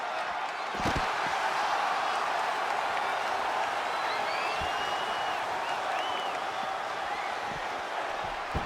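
Home arena crowd in the wrestling game WWE 2K20, a continuous distant roar of cheering and clapping with a few thuds of in-ring impacts.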